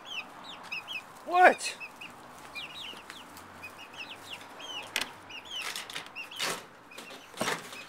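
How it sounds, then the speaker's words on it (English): Backyard chickens cluck softly and intermittently close by on a spring morning outdoors, with small birds chirping around them and a voice speaking briefly. "I'm hanging out with the chickens."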